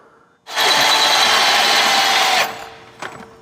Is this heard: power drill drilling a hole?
yes